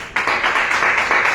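A church congregation applauds together, a steady, fairly loud wash of clapping with uneven pulses that carries on without a pause.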